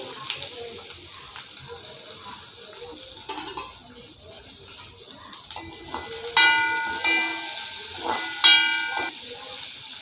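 Onion and three dried red chillies dropped into hot oil for a village-style mutton salt curry, a steady soft sizzle with clattering pan sounds and sharp metallic rings near the end, no talking.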